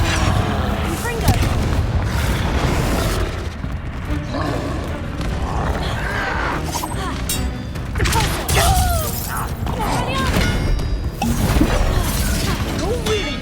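Booming fire spells and crashing impacts from a Harry Potter video game battle burst repeatedly through a dense, loud mix, with game voices talking over the blasts.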